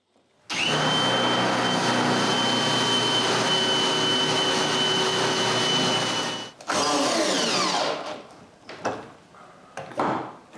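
A power driver runs steadily as screws are driven into hardwood while building a closed bookcase, a loud continuous whir for several seconds, then shorter bursts and pauses as the screws seat.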